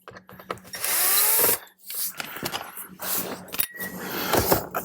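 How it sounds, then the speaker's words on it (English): Power drill driving out two Phillips screws from the radio trim of a 2018-or-later Jeep Wrangler JL, close and loud: a sustained whirring run, then shorter drill bursts with clicks and rattles of loosening parts. "we're just going to take the screws out of the bottom of it. There's 2 Phillips screws there."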